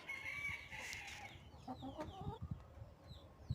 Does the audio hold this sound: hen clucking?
yes